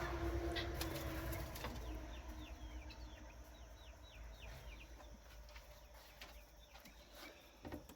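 Backyard hens cluck and murmur at a moderate distance, with scattered bird calls and a brief wing flutter over steady outdoor ambience; no one speaks.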